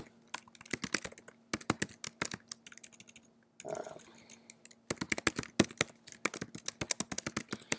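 Rapid, close keyboard typing in uneven bursts of clicks as code is entered on a computer, with a short pause and a brief rustle midway before the clatter resumes, no talking.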